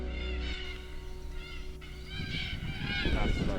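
Red-tailed black cockatoos call from a tree near a swamp, a flock giving repeated harsh, grating cries at moderate distance over a low background hum.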